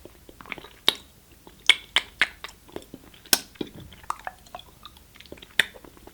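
Someone bites and chews a yuzu compote white chocolate truffle up close, with a series of sharp, crisp crunches and softer wet mouth sounds spread irregularly over several seconds in a quiet setting.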